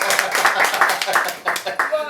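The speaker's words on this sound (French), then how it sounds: "Applaudissez pour ma soeur Vital." Clapping in a Côte d'Ivoire radio studio, several hands beating in an uneven rhythm of distinct claps while people talk over them throughout.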